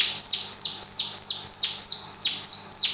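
European robin imitated on a wood-and-lead bird call device: about eight loud, evenly spaced high chirps, each a sharp rising-then-falling tweet, repeated in a steady rhythm with no other sounds.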